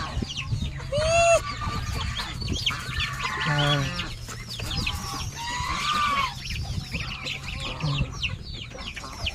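A flock of geese and other fowl call and honk close by, overlapping squawks and clucks over a low steady hum.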